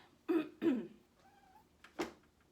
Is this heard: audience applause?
no